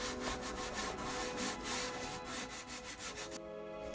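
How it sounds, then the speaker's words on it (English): Sanding and cutting rasp along the edge of a wooden box bed border inside a converted bus, steady rhythmic scraping strokes close up that stop abruptly near the end, with no talking. "I had to scribe the edges, cut that and then sand that edge"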